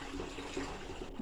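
Continuous gurgling rush of water being poured from a 2-gallon bucket into a bleach bottle, steady and close, with a slight rising glug toward the end.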